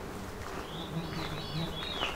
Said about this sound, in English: There we go, Veery.